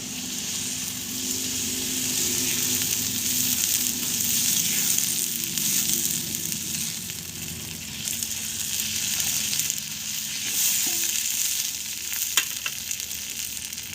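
A frying dal and egg dish keeps up a steady, close sizzle and crackle in the pan, with a few soft clinks and no voices.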